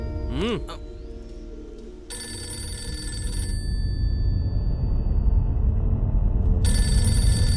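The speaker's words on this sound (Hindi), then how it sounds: "फोन क्यों नहीं उठाता?" An unanswered telephone rings in repeated bursts of bright electronic trill, loud and close, separated by a pause, with a brief voice at the start and background noise underneath, in a Hindi-dubbed action thriller film.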